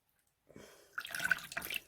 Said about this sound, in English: Squeeze out as much of the water as you can.